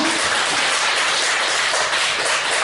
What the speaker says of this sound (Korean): 먼 곳에서 단숨에 달려오셔서 우리에게 귀한 말씀 준비해 주신 우리 목사님께도 감사의 박수 드립니다.